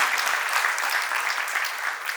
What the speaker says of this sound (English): That's a very feeble applause.